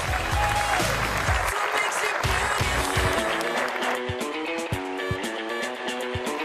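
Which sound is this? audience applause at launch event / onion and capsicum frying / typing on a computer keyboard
audience applause at launch event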